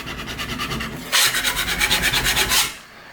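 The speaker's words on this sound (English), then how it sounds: "So we just want to completely scrape that right back, get it all nice and flat before we actually sand it and then fill it." Paint scraped back off a wooden door during dent and chip repair: a steady rasping rub, then a louder run of rhythmic scraping strokes, about a dozen in quick succession, close and alone before fading out.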